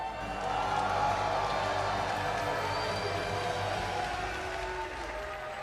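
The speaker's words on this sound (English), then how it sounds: "Let's hear a round of applause for Levy." An audience at a Team USA versus Team India chess event applauds and cheers for Levy, heard as a steady, fairly faint wash of clapping and crowd noise at a distance.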